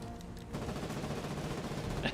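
Rapid machine-gun fire from the online war game Foxhole bursts out after a brief lull, a dense, continuous rattle of shots lasting under two seconds at moderate distance.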